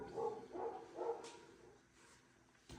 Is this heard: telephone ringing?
no